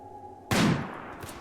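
A single burst of gunfire in the colony-building video game RimWorld cracks out after a quiet hum and then rolls off into a short decaying echo, loud and close.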